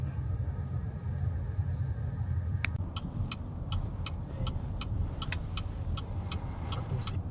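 A car driving along a toll road in Bangkok traffic, a steady low engine and road rumble from inside the cabin with a regular ticking, like a turn signal, running through the middle and end.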